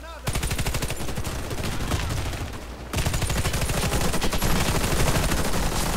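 Rapid bursts of automatic gunfire in the video game Warface, loud and continuous, with a brief pause before an even denser stretch of rattling shots.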